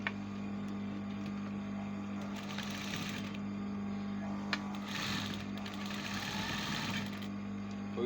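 A sewing machine stitching a garment edge, its steady mechanical hum broken by short whirring runs of stitching, close and fairly quiet.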